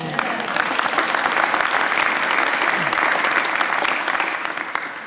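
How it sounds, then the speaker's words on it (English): Audience applause at a press conference, a dense steady wash of many hands clapping together, loud and sustained throughout before easing slightly at the very end. "Yes, you can applaud for that."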